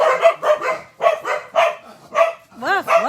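A small dog named Lola barks in a steady series of sharp, close yaps, ending with a few higher whining, wavering yips, while a person talks nearby.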